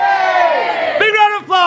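A group of party guests at a 21st birthday bellow a drawn-out shouted cheer in unison, a loud sustained roar that breaks off and is followed by a second short burst of voices.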